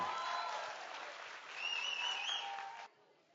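Audience applause fills a Bigg Boss 7 launch event with Salman Khan, steady clapping from a crowd that stays loud throughout and cuts off near the end, leaving quiet room tone.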